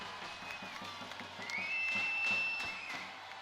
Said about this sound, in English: the fans are smiling and cheering even louder against their former head coach